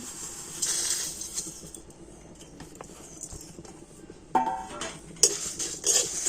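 Spices stirred and lightly fried in a pan with a few chillies for a raw jujube (kul) sweet: a steady soft sizzling hiss with intermittent spoon scrapes, then several sharper metallic clinks against the pan toward the end, close and moderately quiet, no talking.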